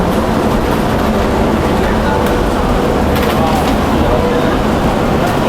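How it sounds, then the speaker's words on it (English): A brand-new high-speed train standing at a station on the Hong Kong to Shenzhen line gives off a steady, loud rumble and hum of rail machinery, with people talking throughout. "Brand new train here."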